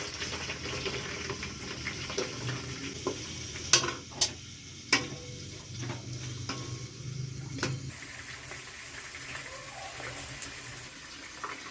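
Chopped onions, four large ones, stirred in hot oil in a pan, giving a steady broadband sizzle with a few sharp clicks of a utensil against the pan partway through, fairly close and with no one talking.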